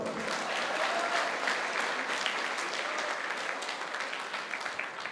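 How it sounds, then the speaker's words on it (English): A student audience at a college session applauds steadily, a continuous wash of many hands clapping that tapers slightly toward the end, heard from a distance with no talk. "Please give good round of applause for this."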